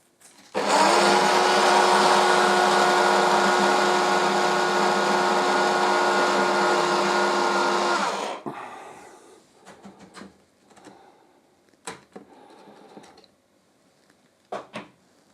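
DeLonghi electric coffee grinder grinding coffee beans: a loud, steady motor whir runs for about eight seconds and cuts off, followed by a few scattered clicks and taps of handling the grinder.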